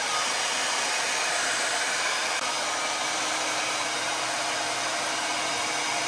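A hair dryer set to medium heat and high fan blows in a loud, steady, unbroken roar throughout, close by and with no talk, used for drying washed cornrows and braids.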